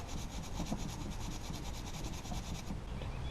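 A tool scrapes crud off front brake parts on a Toyota 4Runner, giving a quick, rhythmic rasping scratch that repeats evenly at close range.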